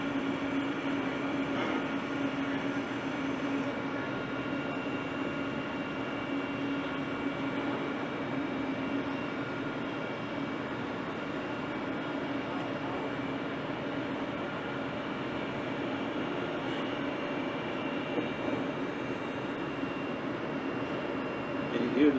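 A Tsugami B0325 II CNC lathe runs dry without coolant, giving a steady, moderately quiet mechanical hum with sustained tonal whine that holds evenly throughout, no voices.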